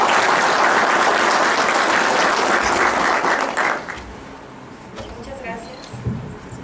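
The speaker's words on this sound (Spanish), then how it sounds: "les damos un aplauso a la licenciada" Warm applause for a speaker at a technical seminar, a full hall clapping loudly for about four seconds before it fades into a few scattered claps and quiet room noise.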